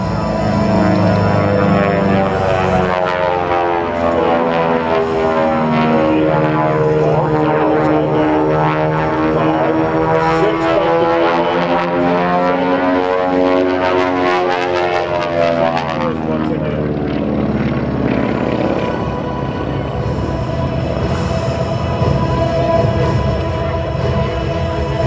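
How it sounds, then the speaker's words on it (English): A Beech 18 twin radial-engine propeller airplane roars through an air show display, its engine drone sweeping up and down in pitch as it passes and turns, loud and close, then easing away. "He's pulling the airplane in that wide"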